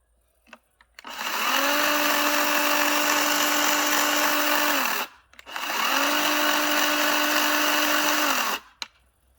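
A brushless cordless chainsaw, NARVA NCS-36/6LiBL, with a slack chain, its electric motor whirring up twice in long steady bursts, loud and close, with short pauses between runs.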